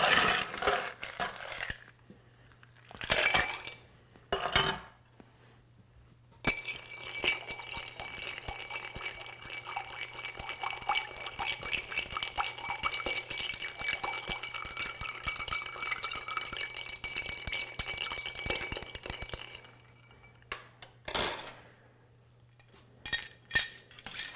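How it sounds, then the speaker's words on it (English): Cocktail stirred with ice in a mixing glass for a Poet's Dream, a steady run of light clinks and swirling ice rattle for about twenty seconds, with brief louder knocks at the start and end and no talk. "So let's stir this with ice."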